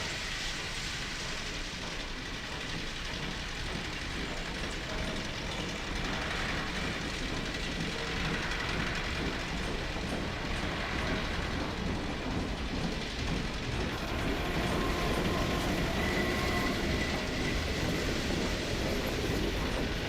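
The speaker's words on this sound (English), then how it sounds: "This obviously needs to run this close to that train." Train rumbling past on rails in Half-Life 2, a steady, loud, continuous roar and clatter filling the whole span without pause, with no talk over it.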